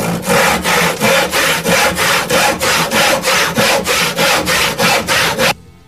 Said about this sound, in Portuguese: Agora vamos com o serrote. Vamos serrar.